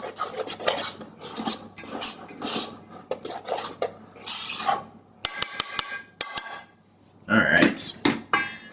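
A utensil scrapes and clatters around a bowl while dough ingredients for homemade perogies are mixed, in repeated rasping strokes with sharp clinks between them, close and fairly loud, and people talk briefly.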